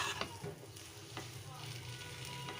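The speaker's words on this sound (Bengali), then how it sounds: "মিষ্টি কুমড়ো ভাজি হয়ে গেছে আর অল্প একটু টান টান করবো" Pumpkin frying in a pan, a faint steady sizzle with soft stirring scrapes, quiet and close, without speech.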